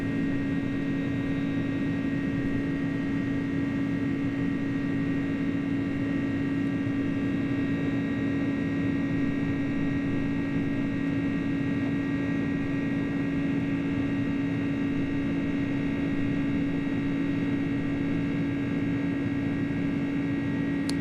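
A steady, droning hum from an iniBuilds A300 airliner climbing out in a flight simulator, holding even and unbroken for the whole stretch with no talk over it.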